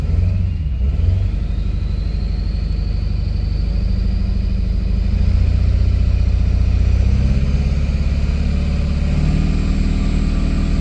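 A 7.3 Powerstroke diesel truck engine with 412k miles and leaks everywhere, held at a steady 2,500 RPM: a loud, continuous low rumble with a strong harmonic drone that swells slightly partway through, with no talking.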